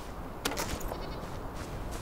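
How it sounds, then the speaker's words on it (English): A goat bleating in the video game Enshrouded, a couple of short, faint cries over a steady game ambience bed. "It's a goat. Come here, goat."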